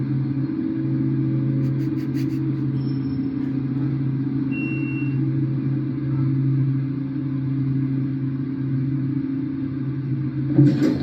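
A Silvana hydraulic elevator motor running, a steady loud hum and rumble with a strong low tone held throughout, ending in a brief clunk near the close.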